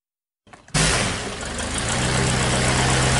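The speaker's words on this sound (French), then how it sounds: "le pilote a mis le moteur en marche" A light aircraft engine at the Luchon aero club is started by the pilot, bursting from silence into a loud, steady close-range roar that holds on without pause.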